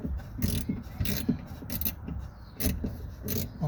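Small hex bolts on a Nissan Cube front driver's-side power window motor being worked loose with a hex wrench, giving quiet metallic clicks and scrapes in short bursts, close by with no voice.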